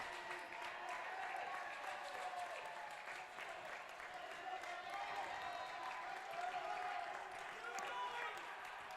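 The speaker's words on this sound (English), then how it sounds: "they are getting applause leaving the ice" An arena crowd applauds a high school hockey team leaving the ice after a 2-1 win, a faint, steady wash of clapping heard from a distance beneath a commentator's voice.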